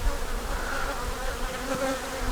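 Honeybees in a hive super, their frames already being filled with nectar, hum in a steady, close, continuous drone with no voices over it.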